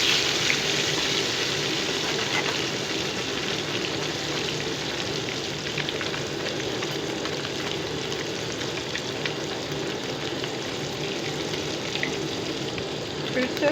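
Fish pieces sizzle and crackle steadily in a pan of hot oil, restaurant-style masala fry, with a dense, continuous hiss that stays loud and close throughout.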